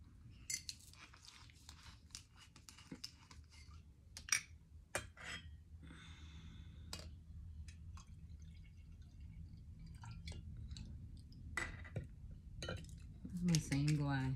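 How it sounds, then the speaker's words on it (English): Glassware and dishes clink and tap while someone gets a glass of wine at home, scattered sharp chinks over a low steady background hum, with brief talk nearby. "Let me get me a glass of wine."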